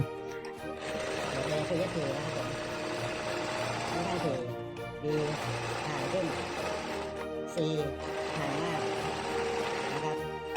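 A CHALI 1216 portable sewing machine stitches fabric in three long, loud, steady whirring runs separated by brief pauses, with someone talking over it.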